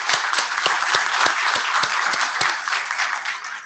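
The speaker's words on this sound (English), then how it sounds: "one more quick round of applause to all of the presenters today" Applause from a conference audience for presenters of short lightning talks, a loud, even round of many hands clapping with a few distinct near claps, held steady throughout.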